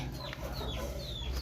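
A rooster clucks briefly in a noisy outdoor setting, with short soft clucking calls over steady background rumble.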